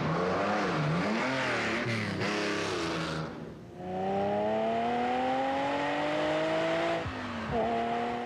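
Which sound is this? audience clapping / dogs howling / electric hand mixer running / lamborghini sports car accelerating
lamborghini sports car accelerating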